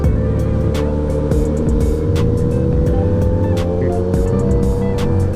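A Suzuki GSX-S1000GT motorcycle fitted with a VMAX V10 titanium exhaust runs loud and close, its steady droning engine note holding through the clip with a few sharper bursts, no talk over it.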